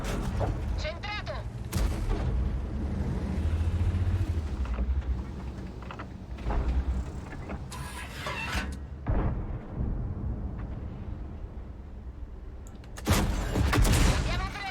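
Tank cannon blasts and impacts in the World of Tanks video game, several heavy booms spread across the stretch, with loud bursts at the start and end and a player talking over the battle noise.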